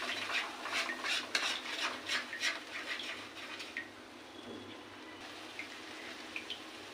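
Utensil scraping and clinking in a pan as a spice paste for eggplant in almond milk is stirred, a run of fairly close, rhythmic strokes that ease off into quieter faint clicks.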